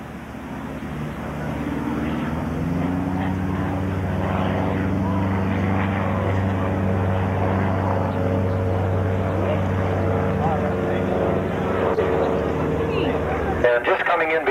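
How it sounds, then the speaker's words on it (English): A KR-2 light homebuilt airplane makes a slow flyby at a 1982 fly-in air show, its propeller engine droning steadily and loudly for over ten seconds, with a commentator talking over it. "he's doing his slow flyby"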